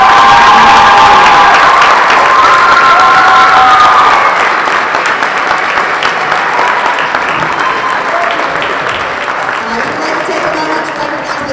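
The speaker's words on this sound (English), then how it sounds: "So please give a warm round of applause for our seniors." A gym crowd at a girls' basketball game applauds and cheers for the seniors, loud dense clapping with shouts and whistles at first, easing slightly but continuing throughout.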